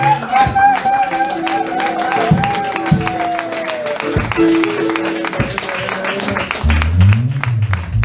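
A charismatic church congregation at a prophetic conference applauds and cheers in a dense, steady wash of clapping, with sustained singing or voices running above it.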